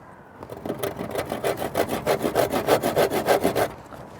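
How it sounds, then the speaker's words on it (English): A handsaw makes a short starter cut in a wooden roof rafter, about a dozen quick, even back-and-forth strokes close by, rhythmic and crisp. "I'll take a handsaw, pop a little saw cut here"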